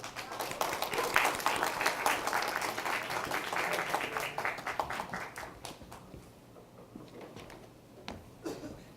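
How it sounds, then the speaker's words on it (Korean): An audience at a lecture hall applauds, dense steady clapping at moderate distance that gradually thins into a few scattered claps over nine seconds. "힘찬 박수로 모시겠습니다"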